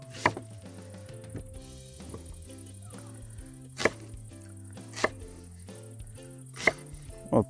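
An onion is cut into large pieces with a knife outdoors, for squid and vegetables cooked in a cauldron over a campfire. A handful of separate, close knife knocks land at uneven intervals over a soft, steady background.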